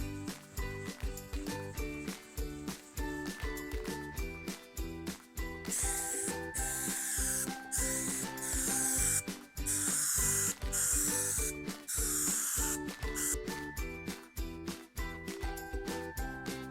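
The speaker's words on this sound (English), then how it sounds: "we're going to spray everything through here" An aerosol can sprays adhesive in a long hissing burst while fitting a custom headliner in a Ford pickup truck, surrounded by rapid rhythmic clicking and rattling, with a second shorter spray later.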